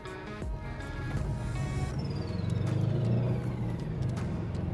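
Boxer engine of a Subaru WRX STI S209 idling and rumbling at close range, a low steady burble that swells a little after the first two seconds and then holds, heard with no speech.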